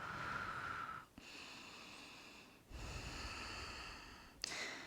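Deep breaths during a slow-flow yoga stretch: two or three long, airy inhales and exhales, each broken by a short pause, close and fairly loud, with no talking.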